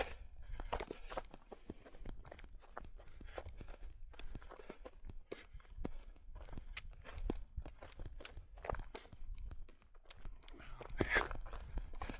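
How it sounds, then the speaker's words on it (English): Footsteps crunch on loose rock that collapses slightly underfoot during a descent of South Mountain's south face, giving a steady run of close, faint crunches with soft whispery talk in places. "everywhere you step, it kind of collapses like a couple millimeters"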